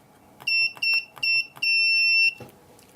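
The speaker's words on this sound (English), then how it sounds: "Then let me connect this to the horn." An electronic motorcycle horn beeps three short times, then gives one longer blast, loud and shrill and close by.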